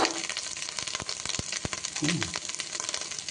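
Onions and a green chilli frying in a hot pan, a steady dense sizzle with scattered pops and crackles, close and continuous throughout.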